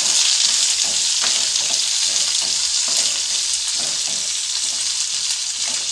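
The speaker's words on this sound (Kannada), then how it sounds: "ಕರಿಬೇವು ಹಸಿಮೆಣಸಿನ್ಕಾಯಿ ಮತ್ತು ಈರುಳ್ಳಿ ಇದ್ದೀನಿ ಈಗ ಇದನ್ನ ಚೆನ್ನಾಗಿ ಫ್ರೈ ಮಾಡ್ಕোಬೇಕು" Curry leaves, green chillies and onion frying in a pan give a loud, continuous close-up sizzle, with soft stirring scrapes now and then underneath.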